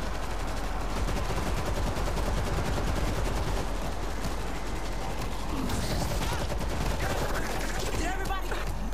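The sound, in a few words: machine gun fire in video game World War Z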